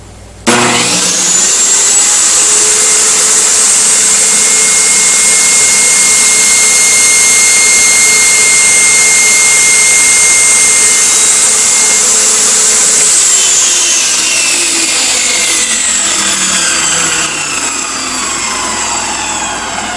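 A Ryobi miter saw spins up to a loud, steady whine and trims excess from a zero clearance insert, the blade running continuously for about twelve seconds before winding down with a falling pitch as it coasts to a stop.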